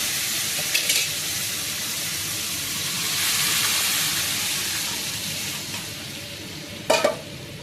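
Bottle gourd and lentils frying in a pan give a continuous moderate sizzle with a swell in the middle, plus a few short scraping and clinking stirs near the start and end, and no one speaking.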